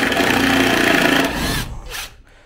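Power screwdriver backing a screw out of a glued wooden boat foredeck, a loud close whirring drive for about a second and a half, then two brief lighter bursts as it trails off.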